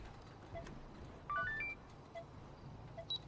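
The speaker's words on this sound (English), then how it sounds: "I tried to call Robbie's on the phone." Phone dialing in a GTA roleplay video game: a short run of quick electronic keypad beeps stepping up in pitch, faint and alone, followed later by a brief higher tone.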